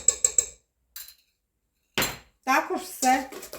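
Clinking and scraping of a utensil against a bowl while stirring dough ingredients with a pinch of salt for a Christmas kalach, a few quick taps followed by louder, rough stirring bursts, close by.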